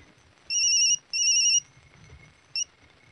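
A phone ringtone plays two clear high electronic bursts followed by a short third chirp, moderately near against a quiet background.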